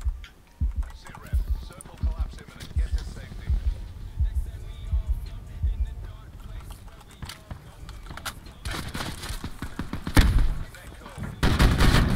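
Bursts of gunfire ring out during a Warzone match on Alcatraz, sharp cracks scattered through the clip, coming in denser volleys near the end under tense game sounds.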